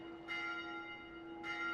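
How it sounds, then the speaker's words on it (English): A bell in Dark Souls 2 rings twice, about a second apart, each strike a clear metallic clang that hangs over a steady low hum. "Let's ring that bell."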